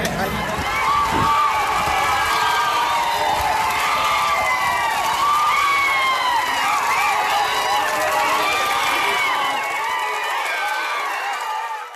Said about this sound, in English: the villagers were cheering, they were chanting Bharat Mata Ki Jai